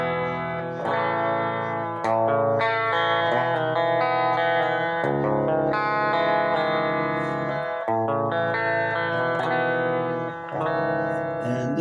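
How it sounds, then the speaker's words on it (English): Clean electric guitar played through an early-1970s Kustom combo amp with built-in reverb and no pedals, ringing out sustained chords and picked notes in several phrases, full and close with a smooth reverberant tail. "this is the early 70s custom 2 combo amp I've been talking about"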